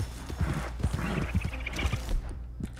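Horse hooves clip-clop in Red Dead Redemption 2, a string of uneven hoof strikes at close range over faint background ambience, fading toward the end.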